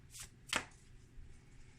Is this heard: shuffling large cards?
yes